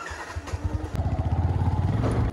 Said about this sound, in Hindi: हुण देखदे आ साउंड आउंदा कि नहीं मोटरसाइकिल तों